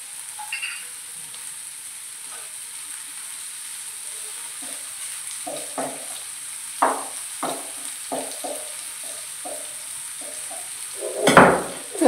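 Curry leaves sizzle in hot oil in a pan for Maharashtrian tomato chutney. A faint steady hiss runs underneath a series of spatula scrapes and taps, and a louder sizzling burst comes near the end, with no talking.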